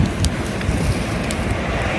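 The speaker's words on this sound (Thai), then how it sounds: "นี่ลมแรงมาก" Strong wind on an outdoor street in Germany roars steadily and loudly into the microphone, a constant dense rush with no talking.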